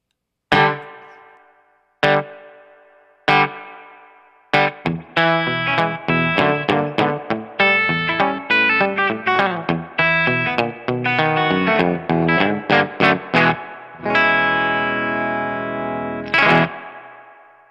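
An electric guitar played through a Tiny Tank spring reverb pedal, dwell turned all the way up and mix turned down, picks single twangy chords and then a run of quick notes, each left ringing with a splashy reverb tail.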